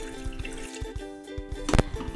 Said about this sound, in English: Pour the salt water over the eggs